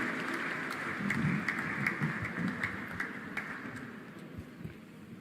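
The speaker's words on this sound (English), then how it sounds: "Please welcome with a round of applause Swami Samarpanananda ji." A round of applause from an audience welcoming a swami to speak at a talk on living a meaningful life, steady, moderately loud clapping that spreads through the hall and slowly fades.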